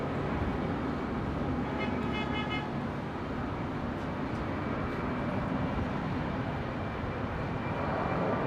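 Qantas airliner rolling for takeoff at Brisbane Airport, a steady broadband jet rumble heard at a moderate distance, holding level throughout with a brief faint tonal whine early on.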